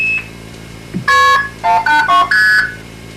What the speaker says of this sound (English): The 800 number is dialed with normal touch tones.